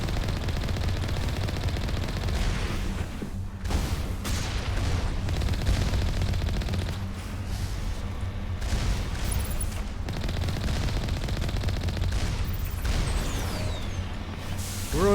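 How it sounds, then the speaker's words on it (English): Mass Effect Legendary Edition combat with a dense, continuous spray of gunfire and mechanical clatter from the Mako vehicle's fight, loud and sustained throughout with brief dips, no voices over it. "We're under fire."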